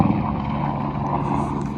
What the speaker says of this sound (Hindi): हेलीकॉप्टर हमारे से नीचे है।